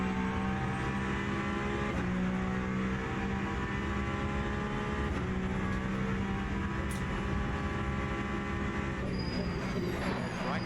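A Peugeot hypercar engine roars continuously in Le Mans Ultimate at COTA, a loud, sustained racing drone with steady harmonic whine and slight pitch shifts as gears change, with no voices over it.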